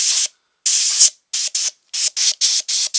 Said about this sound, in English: Compressed air is great for blowing any detritus off and drying things out